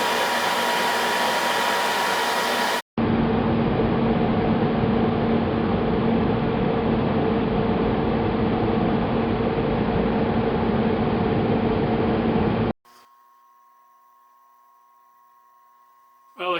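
Power threading tool cutting a thread into metal, a loud steady motor whine that runs for about ten seconds after a brief cutoff, then stops, leaving a faint electrical hum.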